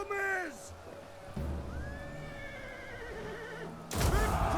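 A Hunnic horse archer's horse whinnies sharply in the Total War Attila video game, a loud descending neigh at the start, followed by battle ambience and a short unit voice response.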